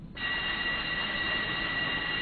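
An anime train runs along the track, heard as a steady, even mechanical hum with a high whining tone that holds unchanged from start to finish.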